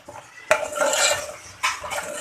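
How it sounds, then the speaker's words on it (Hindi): Metal spoon scraping and clanking against a pan while masala spices fry for a dhaba-style dahi bhindi (okra) dish, two sharp knocks followed by rough stirring scrapes and faint sizzling, close and without speech. "इस मसाले को अच्छे से भून लेंगे।"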